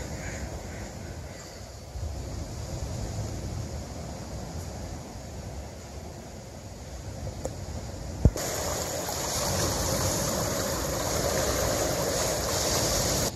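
Small spring trickling out of the ground, a steady, soft broadband wash of flowing water that continues unbroken, with a brief sharp knock near the end.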